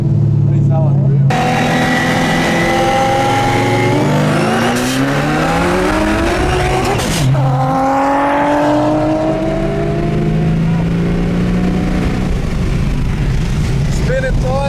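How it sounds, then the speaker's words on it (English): A supercharged 550 hp Ford FG XR8 roars and spins its tyres at Brisbane roll racing, loud engine revs climbing and dropping in repeated sweeps with gear changes and tyre noise, close and continuous over crowd chatter. "Spinning tyres, missing gears, mate."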